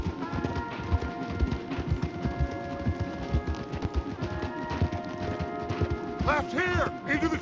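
Horses gallop through a Red Dead Redemption 2 chase, their hooves drumming a rapid, steady clip-clop in the foreground over a sustained musical backdrop.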